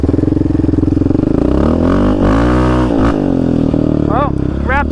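A Yamaha Raptor 700 ATV rides through muddy Arizona desert washes and washed-out trails, its engine droning loud and close with revving rises and falls, along with some clatter.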